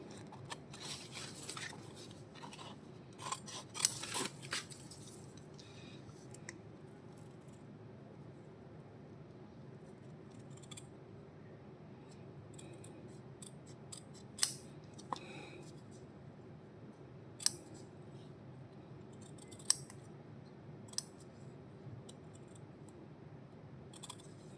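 Scissors cut a stiffened crochet earring piece, making a few faint, sharp snips that stand out as isolated clicks against a quiet, soft background hiss.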